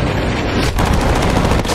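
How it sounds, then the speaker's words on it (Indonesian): Gunfire from an officer's gun in a sniper action film, a loud dense burst of shots with booming low end and rapid repeated reports over a cluttered soundtrack. "Tembakan senjata petugas hampir saja mengenai Thomas."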